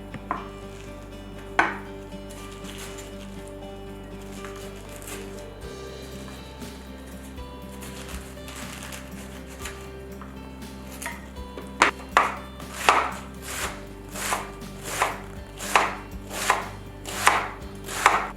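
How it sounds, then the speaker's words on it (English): Steady knife chopping of cabbage on a board, the strokes growing louder and more rhythmic toward the end, with a low hum in the background. "once we're done chopping"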